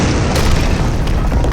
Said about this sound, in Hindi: तभी ज्वालामुखी फटता है।